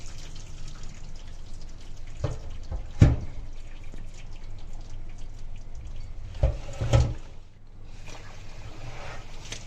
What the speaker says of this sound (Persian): همین آب کافیه ما بریزیم روش